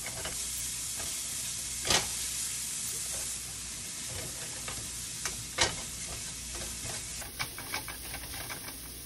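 Cauliflower rice seasoned with salt and black pepper sizzles in a frying pan while a utensil stirs and scrapes it, steady hiss broken by a few sharp clanks, close and alone without talk.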